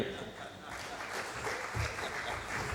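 A crowd claps steadily at a healthcare leaders' conference, dense continuous applause at moderate distance with a voice faintly audible underneath.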